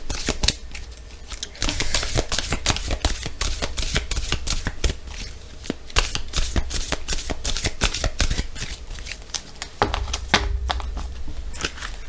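A deck of tarot cards is shuffled up close in rapid, crisp riffles and slaps, a dense clattering rhythm that runs nearly the whole time, broken only by a short pause.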